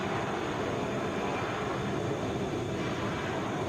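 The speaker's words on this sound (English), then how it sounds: "Boeing 757." A Boeing 757 airliner at Atlanta airport gives off a steady, broadband roar of jet engine noise that holds level throughout, with no voices.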